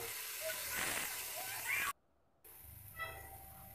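Finely chopped tomato sizzling in hot refined oil in a pan, a steady close hiss that cuts out briefly and then resumes a bit quieter.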